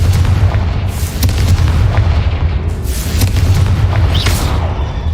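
Repeated blasting-spell explosions in a Hogwarts video game, several loud booming bursts with crackling debris over a constant heavy low rumble, close and forceful, with little speech.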